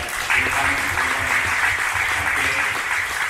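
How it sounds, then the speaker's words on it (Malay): Clapping from a gathered crowd at a Malaysian political event, a continuous wash of applause with faint voices underneath, steady and fairly loud. "bagi tepukan untuk beliau"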